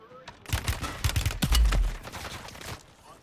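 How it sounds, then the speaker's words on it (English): Rapid gunfire bursts crackle in a Call of Duty match, several sharp shots clustered in the first two seconds with a heavier thump midway, then trailing off. "He's shooting through the wall."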